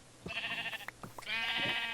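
Sheep bleat in a Minecraft-style video game, with a few short, wavering synthetic calls close by, clear and alone.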